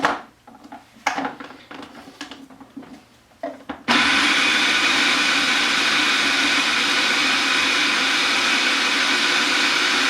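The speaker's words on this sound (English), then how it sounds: "Add our oil, the carrots, give it another whirl around." A small food processor blends roasted carrots and oil for carrot hummus. After a few light clatters and taps, the motor starts suddenly partway through and runs as a loud, steady whir until the end.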